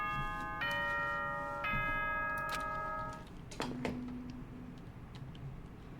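The nighttime announcement chime from the video game Danganronpa: Trigger Happy Havoc rings out as a sequence of clear sustained bell-like tones, followed by a fainter ticking with sparse clicks, and no voices.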